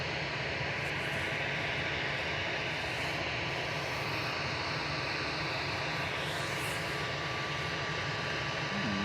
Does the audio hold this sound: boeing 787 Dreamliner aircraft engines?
yes